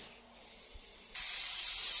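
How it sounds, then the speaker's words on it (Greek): Carburetor cleaner spray fires from an aerosol can in a loud, steady hiss that starts abruptly partway through and continues without a break after a quiet, close-miked moment. "Αυτό που θα χρειαστούμε είναι ένα σπρέι καθαρισμού καμπυλατέρ"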